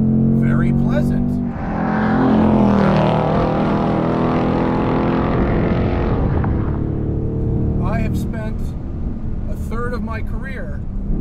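A 2024 Ford Mustang GT engine runs steadily in a continuous loud drone that swells and holds, with someone talking over it throughout.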